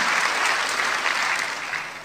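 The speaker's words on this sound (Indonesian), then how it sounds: "tepuk tangan buat Tuhan" Congregation in a church service breaks into dense applause for God, loud and continuous before easing off slightly at the close.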